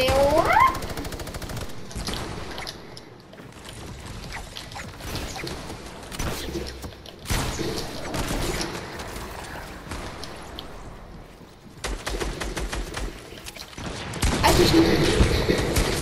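Rapid bursts of automatic gunfire from a gun in Fortnite, several rattling volleys separated by short pauses, loud and close, with a player's voice occasionally over the shooting.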